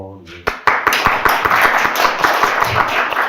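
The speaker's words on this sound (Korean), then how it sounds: "김민수님 아주 열심히 박수를 쳐주시는데" An audience member at a talk concert on politics and religion claps enthusiastically, a quick run of sharp, close handclaps at a steady rhythm, with people talking over it.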